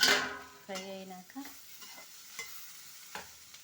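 Beans frying in a pan being stirred, quiet soft scraping and a few light clinks against the pan, with a faint sizzle fading after an initial louder burst, close and brief.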